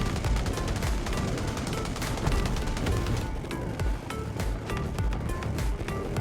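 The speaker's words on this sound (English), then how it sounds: "all the proximity cannons in the canyon roared to life. Bullets poured down like rain" Cannons roar in a movie battle scene in a canyon, with dense rapid gunfire and booming blasts in a loud, continuous barrage across the whole span.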